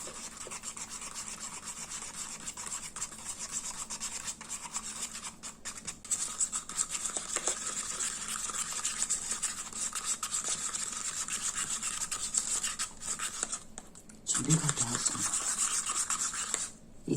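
Red bean powder mixture for soap stirred continuously in a bowl, a steady close scraping and rubbing that runs unbroken, with a brief bump in level near the end.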